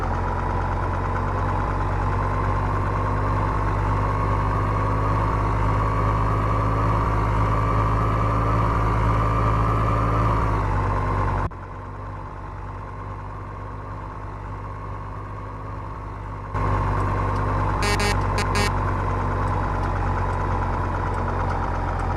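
A truck engine drones steadily while driving, loud and close with a constant low rumble; about eleven seconds in it drops to a quieter, duller hum for several seconds, then the fuller engine note returns.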